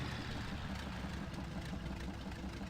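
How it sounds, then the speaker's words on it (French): Truck engine in the off-road driving game Spintires idling after a restart, a steady low rumbling drone, quiet and even throughout with no talk. "Alors, redémarrer le moteur ailleurs."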